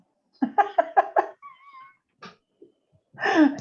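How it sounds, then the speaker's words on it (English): A pet dog heard through an online council meeting call gives a quick run of five or six sharp barks, then a pause, a few softer sounds, and a final longer whining yelp, all close and without talk. "I get my dog to bark a couple more times."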